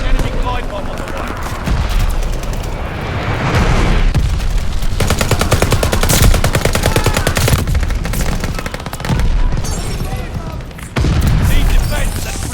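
Rapid machine-gun fire and thudding mortar barrage explosions in Mass Effect Legendary Edition, a loud, dense, continuous battle din with bursts and booms, voices speaking over the combat.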